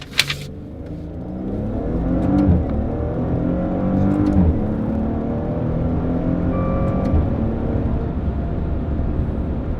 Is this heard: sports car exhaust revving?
yes